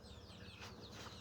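About sixteen month-old Natukoli country chicks give soft, faint chirps and clucks in a quiet setting, a few brief calls close together.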